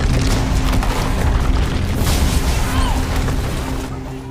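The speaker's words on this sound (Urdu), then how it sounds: "ایک اور بڑا دھماکہ ہوتا ہے" A big explosion in a mine tunnel, a loud, dense rumbling roar that fills the clip and slowly fades toward the end.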